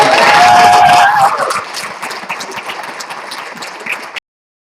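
Audience applause for an award honoree at an artist legacy awards event, loud at first with a tonal element over the clapping, then thinning to scattered claps and murmur before cutting off.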